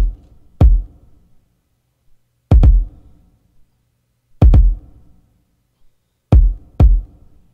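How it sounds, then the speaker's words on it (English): A simple programmed kick drum pattern in a trap beat, made with a Sylenth synth: isolated booming kicks, some doubled, spaced irregularly over silence and fairly loud. "So you're going to get a kick that sounds like this."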